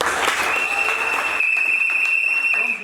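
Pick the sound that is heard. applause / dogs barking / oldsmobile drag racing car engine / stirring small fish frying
applause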